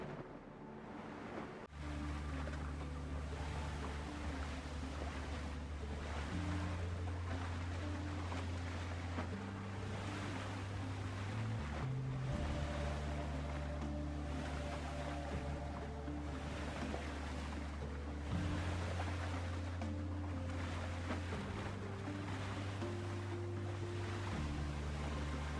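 Continuous wash of ocean waves and wind as a ship sails toward a third island in the game Windrose, steady and full throughout, with low sustained music-like tones running underneath and no talking.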